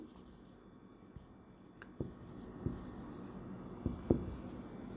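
A pen scratches out a journal-entry narration for an accountancy lesson, soft close strokes with a few sharper taps against a quiet room hum, no speech.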